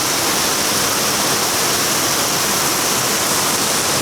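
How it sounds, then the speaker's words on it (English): Heavy rainstorm on Merdeka Day in Malaysia, water pouring from the sky and streaming off a roof, a steady, dense, loud wash of falling water with no breaks and no talk. "the water is flowing like hell from the sky, from the roof,"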